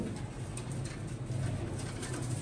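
Pigeons coo in a steady, dense low murmur that runs without a break, a flock heard fairly close with constant background noise and no talk.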